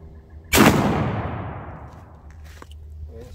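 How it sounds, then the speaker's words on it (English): A Browning BXS 12 gauge sabot slug fires downrange in a single loud, close blast, and the report rolls off into a long fading echo. "I'm gonna go and put one more BSX slug downrange just to see how it's doing"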